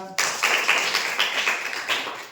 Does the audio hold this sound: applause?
yes